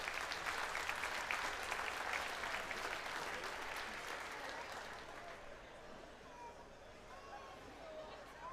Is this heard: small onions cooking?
no